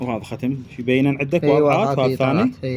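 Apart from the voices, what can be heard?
No everyday noise stands out behind the speech.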